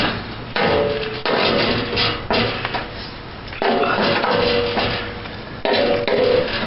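Metal hammering against the lip of a bent 1975 Dodge bumper, heard as a dense, loud series of repeated strikes in bursts with short pauses between them, close by and with no voices.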